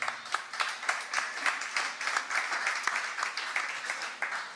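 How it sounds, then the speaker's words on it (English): Applause for two guests at a Knoxville Ice Bears SPHL hockey broadcast event, a modest crowd clapping steadily with scattered distinct claps, moderately near and fairly quiet, with no talking over it. "Let's give a round of applause for these two."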